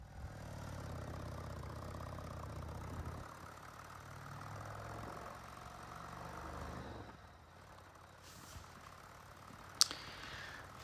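A 1985 Harley-Davidson Sportster 1000 with untuned ignition runs with a low, steady idling rumble for several seconds, then fades quieter, with a couple of sharp clicks near the end.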